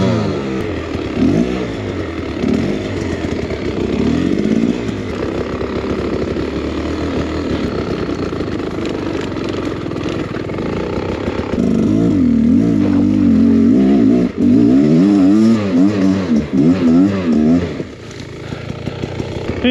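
Beta X Trainer dirt bike engine revving on a trail, loud and close, with a sustained buzzing drone that rises and falls repeatedly as the throttle is worked, louder surges near the end.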